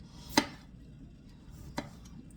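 Two sharp, isolated knife strokes cutting red snapper fillets on a board, about a second and a half apart, over a quiet background hum.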